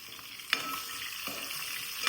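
Chicken pieces sizzle in a pan for a chicken roast, a dense steady frying hiss broken by three quick scraping stir strokes, close up with no voices.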